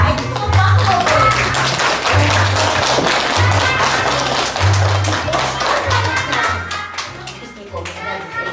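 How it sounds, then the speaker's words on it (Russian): Children and an audience clap together at a kindergarten graduation party in a village in 2022, a steady patter of many hands close by with children's voices and adult talk mixed through. "Давайте похлопаем."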